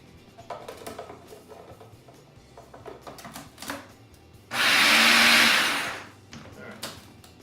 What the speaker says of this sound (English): Pulse it one more time, just to make sure we get everything all mixed